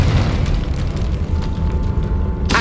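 The Confringo fire spell in Hogwarts Legacy goes off as a heavy, rumbling explosion that swells and lingers, followed by a sharp crackling burst at the end.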